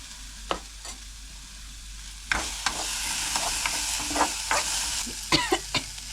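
Onions sauté in a pan for a village-style lunch, giving a continuous close sizzle broken by frequent sharp spatula scrapes and taps against the pan.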